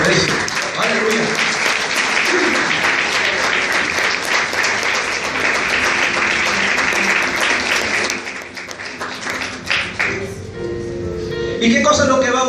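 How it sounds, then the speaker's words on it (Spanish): A church congregation claps steadily and loudly for several seconds, the applause fading and thinning near the end as a few voices come through. "Denle palmas al Espíritu Santo por eso."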